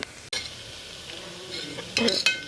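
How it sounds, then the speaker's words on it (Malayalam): Coconut pieces frying in a pan are stirred briefly, a soft sizzle with a few scrapes and a bright metallic clink near the end. "തേങ്ങാക്കൊത്തൊക്കെ നല്ലോണം പൊരിഞ്ഞ് വരുന്നു നമുക്കൊന്ന് ഇളക്കി കൊടുക്കാം"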